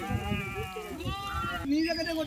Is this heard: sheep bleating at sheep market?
yes